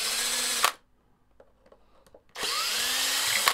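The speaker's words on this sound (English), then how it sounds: "You never use a DeWalt to take out neck bolts, because you'll just snap the heads off them." A DeWalt power drill backs out guitar neck bolts in two loud whirring bursts, with a quiet pause between them filled by faint clicks and handling.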